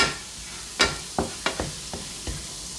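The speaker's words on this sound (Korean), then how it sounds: "버터 20g 녹여 다진 마늘 7g 볶아줄게요." Minced garlic is stirred in melted butter in a pan, with a faint sizzle under a few soft scraping and tapping sounds from the utensil, heard close and quiet.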